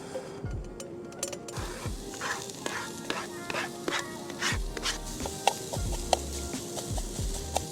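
Onions sweating in a Trangia camping pan at a night campsite, a soft sizzle broken by repeated scraping and stirring strokes of a utensil, close and fairly busy.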